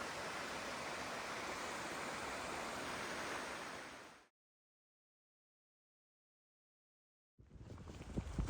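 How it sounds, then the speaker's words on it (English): A mountain creek beside a rhododendron-lined Appalachian Trail path rushes in a steady, dense wash of flowing water, cutting out to silence midway before the flow returns with closer, rougher splashing. "you can hear the creek flowing for a very long time"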